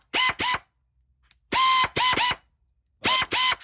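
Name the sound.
Snap-on and Maco 1/4 inch air ratchet running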